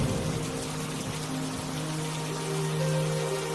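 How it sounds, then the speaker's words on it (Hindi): Heavy cartoon rain falls over a flooding village as a dense, continuous downpour hiss, with low sustained humming tones running underneath throughout. "तभी अचानक फिर से भयंकर बारिश शुरू हो जाती है।"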